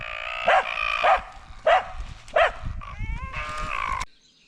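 A dog barks in a forest near a river, four loud sharp barks spaced about half a second apart, then a shorter whining yelp before it cuts off, heard close with no speech.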